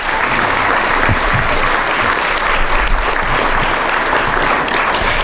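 Loud, dense applause from an awards ceremony audience fills the room steadily for several seconds, a continuous wash of many hands clapping with no pause.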